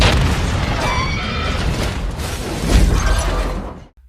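A bomb blast in a film scene: a dense, loud roar with crackling debris that swells near the end and then cuts off abruptly into silence.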